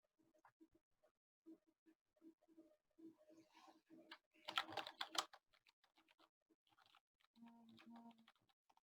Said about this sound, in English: I'm sure you all can hear my phone getting spammed, my keyboard when I type.